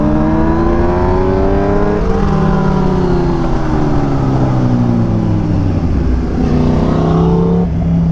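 A modified, turbocharged Porsche GT2 RS at a supercar meet revs loudly and continuously, its engine note climbing and falling in pitch over several smooth sweeps with a steady roar underneath.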